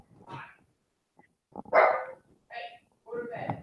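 A dog barks several times in short, separate bursts with quiet gaps between them, fairly close and clear.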